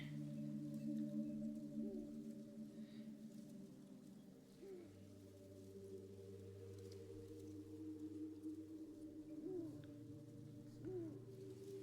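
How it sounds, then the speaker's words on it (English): An owl hoots softly in the background of the video game Lorelei and the Laser Eyes, a few faint, spaced calls over a low droning ambient tone, with no talking. "I can hear an owl in the background."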